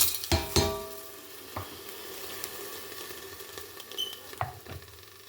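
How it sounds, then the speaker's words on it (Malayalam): Whole star anise, cinnamon, bay leaf, cardamom and cloves tipped into a hot biryani pot, with a few sharp clinks and taps over a steady soft sizzle of frying, close by and with no talking. "തക്കോലം, കറുവപ്പട്ട, ബേ ലീഫ്, ഏലക്ക, ഗ്രാമ്പു ഇതെല്ലാം കൂടി മുമ്പട്ടൊക്കെ കൂട്ടിയിട്ട് ഞാൻ ഒരുമിച്ച് അതിനകത്തേക്ക് ആഡ് ചെയ്ത് കൊടുക്കുകയാണ്"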